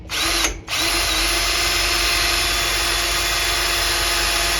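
A power drill runs steadily at close range with a high whine while drilling a hole for a Jeep tool mount, briefly cutting out near the start before spinning up again and holding.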